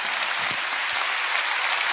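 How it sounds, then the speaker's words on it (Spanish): A church congregation claps loudly and steadily for viewers watching from home, a dense, continuous wash of many hands filling the room without pause. "Dale un fuerte aplauso a la gente que nos ve en casa."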